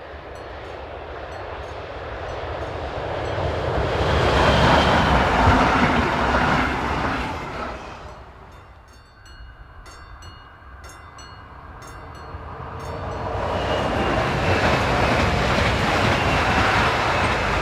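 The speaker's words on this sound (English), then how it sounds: "as 146232 passes with the 1309 service from Karlsruhe" Electric locomotive 146232 passes hauling the 1309 passenger service from Karlsruhe, just north of a German town, a loud rushing roar of wheels on rail that swells, dips briefly, then builds again as the carriages go by.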